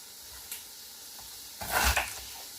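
Minestrone vegetables cooking in a pot on high heat, with a steady low sizzle and a louder burst of stirring and scraping near the end, close by and without speech.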